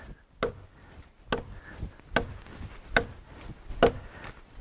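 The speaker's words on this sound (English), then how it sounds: "Would you imagine taking your butcher knife out and chopping a log in two?" A very sharp butcher knife thuds into a hardwood log at a slow, uneven pace, about seven sharp chops, each a crisp close knock.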